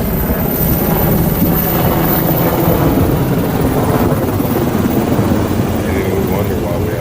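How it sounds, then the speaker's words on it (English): A helicopter drones loudly and continuously, its rotor noise steady throughout, as if overhead or close by. "Helicopter."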